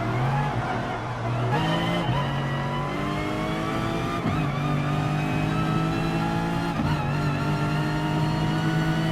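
Race cars roar off the line at the start of a race in the GT Sport video game, engines revving and shifting up through the gears in a loud, continuous pack with faint tire squeal.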